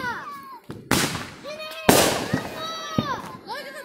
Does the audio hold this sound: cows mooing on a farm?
no